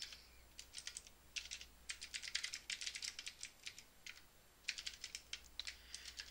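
Close, quiet clicking of fingers typing code on a computer keyboard, in quick irregular bursts of keystrokes separated by short pauses, alone without any talk.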